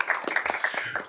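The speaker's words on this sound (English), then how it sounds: "A little round of applause for the Hanover folks." Scattered clapping from a small group at a school board meeting, a short burst of light applause with a few hands audible.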